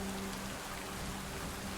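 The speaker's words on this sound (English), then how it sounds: "oh, the beautiful sound of rain" Steady rain falling in the video game Satisfactory, a constant hiss of drops spread evenly across the clip, moderate and unbroken, with no speech.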